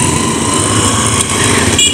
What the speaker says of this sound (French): Donc il y a un peu les motos